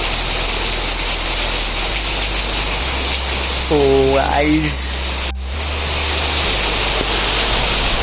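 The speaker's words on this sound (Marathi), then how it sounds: "कसला जोराचा पाऊस चालू झाला आहे." Heavy monsoon rain pours down in a dense, steady roar that never lets up, with a brief voice speaking over it partway through.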